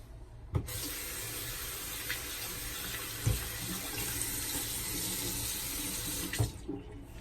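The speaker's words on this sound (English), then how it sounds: "I'm only giving it these extra long rinses because there's a lot of hair." A bathroom tap runs steadily while a razor is rinsed of a lot of shaving hair, a close, constant hiss of water broken by a few knocks of the razor against the sink.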